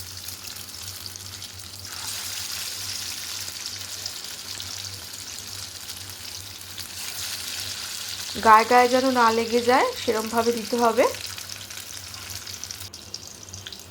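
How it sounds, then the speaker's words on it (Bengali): Pieces deep-frying in hot oil over a medium flame, a steady bubbling sizzle throughout, briefly joined midway by someone speaking over it. "এই দেখো কিরম টকবক করে তেলটা ফুটছে"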